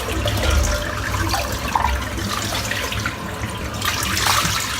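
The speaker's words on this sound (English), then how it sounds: "so empty the bowl out." Water from a shaving bowl is emptied into a sink, a steady close splash and trickle that swells toward the end, with no speech.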